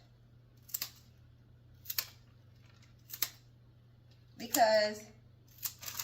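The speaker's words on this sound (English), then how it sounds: "I'm just going to cut these roses just a little bit, not too much." Scissors snip rose stems for a budget flower bouquet, four or five sharp, close clicks spaced about a second apart, with a short spoken word breaking in between two of the cuts over a low steady hum.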